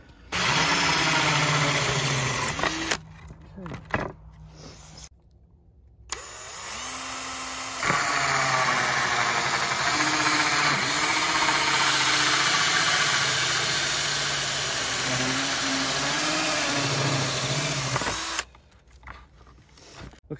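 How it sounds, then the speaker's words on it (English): A power drill whirs loudly in several sustained bursts, drilling a hole in a Bass Tracker boat to mount a rod holder, its pitch dipping under load, separated by short pauses and clatter. "now I'm going to drill a hole"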